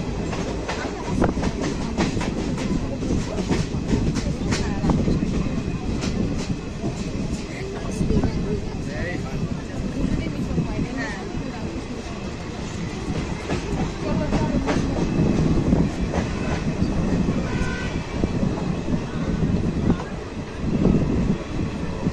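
The Ganadevta Express runs on rails between stations on the Howrah to Rampurhat line, with a steady rumble, rhythmic wheel clatter over rail joints and wind buffeting, close and continuous throughout.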